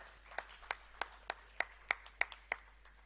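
Audience at a national students budget forum clapping to welcome a speaker to the podium; scattered, fairly faint individual claps spread across a few seconds rather than a full ovation.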